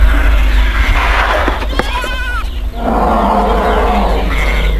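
Flock of sheep bleating in a forest setting, a couple of wavering bleats rising over a steady rumbling background, followed by a broader bleating chorus.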